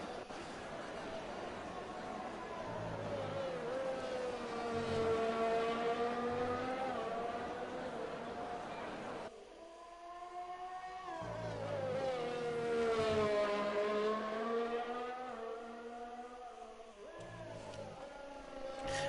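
An engine drone from a racing video game, a car heading out onto the track in rain on red tyres, rises and falls in pitch as it accelerates and shifts, steady and fairly near, with talk over it.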